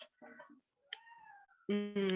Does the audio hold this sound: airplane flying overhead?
no